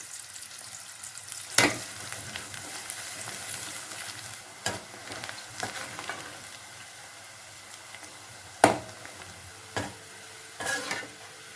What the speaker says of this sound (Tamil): இதை ஃப்ரை பண்ணி எடுத்துக்கலாம்